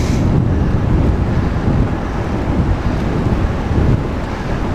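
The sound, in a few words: wind blowing along shoreline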